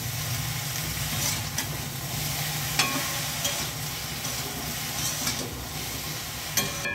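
Capsicum, tomato and other vegetables with pepper and salt being stirred in a hot pan, a steady close sizzle and frying hiss with scraping stir strokes, no voices.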